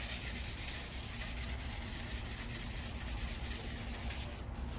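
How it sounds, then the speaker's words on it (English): A pipe for a custom V-brace on a BMW E90 is sanded by hand in continuous, even rubbing strokes, steady and close up with no talking. "I'm just sanding down a pipe."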